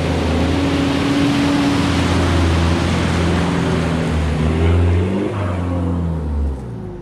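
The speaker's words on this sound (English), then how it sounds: "We had to drive through quite a few mud holes without any choice." A 4x4 off-road vehicle drives through muddy water holes, its loud engine droning and rising steadily while water sloshes and churns around it close by, with no voices.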